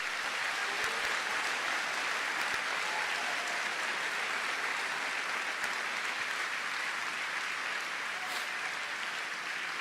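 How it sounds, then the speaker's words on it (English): Senior awards ceremony audience giving a sustained round of applause for honourees with long service, an even, continuous roar of many hands clapping across the whole stretch, heard alone without speech. "Let's give them a round of applause."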